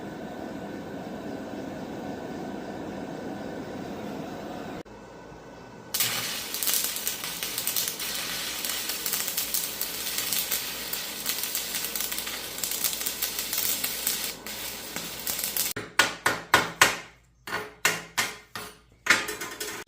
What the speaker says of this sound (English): There's our stick weld right there. Ran some 6013 like butter.